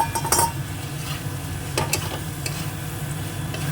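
Pointed gourd (potol) frying in oil with poppy seeds: a steady low sizzle runs throughout, with a few sharp spatula scrapes and clinks against the pan near the start and middle, close and moderately loud.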